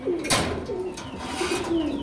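Pigeons at a breeder's sale loft coo in a low, repeated murmur, with several soft rolling calls close by and a brief sharper noise near the start, no talk.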